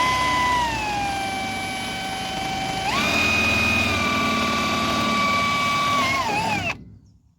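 Electric drill boring a hole with a 6 mm bit while fitting new mudguards to a Fada Bison 1800 W electric tricycle, a steady loud whine that rises in pitch partway through, then stops abruptly near the end.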